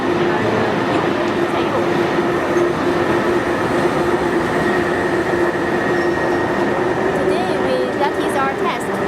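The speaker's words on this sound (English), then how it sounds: "So we just use our diesel tank for testing. And you can see how the diesel burner working," A diesel burner roars steadily while firing a continuous carbonization furnace, a loud, unbroken broadband rumble with a faint tonal hum that holds level throughout, with no pauses or changes.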